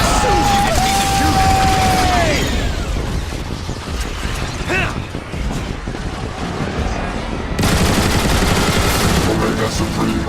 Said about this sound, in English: Decepticons, Omega Supreme has deployed aerial bombs! Shoot them down